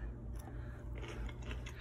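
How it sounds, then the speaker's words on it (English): Someone bites into a crunchy fermented hot pepper, with soft close chewing and crisp crunches that are faint and steady over a quiet room and no talk. "I can hear the crunch."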